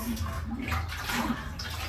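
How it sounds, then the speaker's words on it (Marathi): Tap water runs steadily into containers at home, a continuous close splashing gush with a low rumbling fill, moderately loud and unbroken for the whole stretch. "चला आपण खाली जाऊ आणि पाणी भरू"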